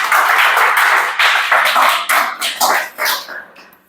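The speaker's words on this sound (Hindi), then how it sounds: "चलो ताली बजाओ जी, ये कर ली।" A classroom of students in a Chhattisgarh police exam coaching class claps together, a loud, dense burst of hand claps that continues for several seconds and thins out toward the end.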